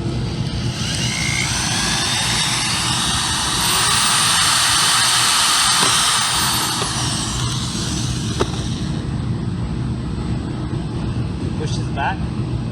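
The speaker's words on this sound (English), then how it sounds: "So you're just gonna get a regular drill and drill this hole out." A regular power drill bores a hole in the rear bumper of a 2015-2016 Chevy Suburban, giving a steady, loud whining drone whose pitch swells midway, then eases to a lower hum with a couple of faint clicks near the end.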